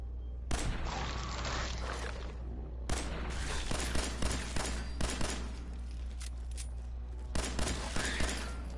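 Gunfire in the video game Fallout 4 as enemies are shot: repeated loud shots and bursts crack over a constant low game hum, with several distinct pops scattered through the firefight.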